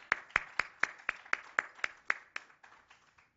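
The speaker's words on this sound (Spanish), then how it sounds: "Nos damos un aplauso al doctor, por favor." About a dozen slow, evenly spaced hand claps ring out after a doctor's talk at a geophysics conference session, sharp and distinct at first, then thinning and fading near the end with no talk over them.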